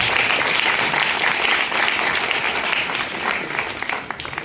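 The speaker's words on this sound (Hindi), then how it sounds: "तालियों के साथ" Audience at a book launch ceremony held by a Haryana academy breaks into loud, continuous applause that stays full and even, easing slightly toward the end.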